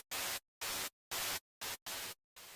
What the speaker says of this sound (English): That, of course, is this one here, the white noise